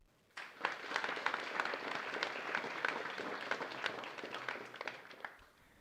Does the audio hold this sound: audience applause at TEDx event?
yes